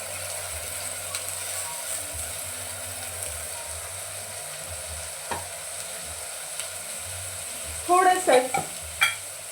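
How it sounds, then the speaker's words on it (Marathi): Sprouted moth beans (matki) cook in hot oil in a pan with a soft, steady sizzle, then a few louder scraping stirs near the end; a short spoken word comes through. "आता तेलामध्ये आपल्याला मटकी टाकून घ्यायची आहे।"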